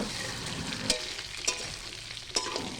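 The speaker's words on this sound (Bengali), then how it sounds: "তারপর কাটা ধোয়া আলুগুলা দিয়ে হালকা করে ভাজি নি, ওর সঙ্গে পটলগুলা দিয়ে হালকা করে ভাজবো" Cut potatoes and pointed gourd fry lightly in oil seasoned with nigella and black mustard seeds, giving a steady close sizzle with three sharp utensil clicks.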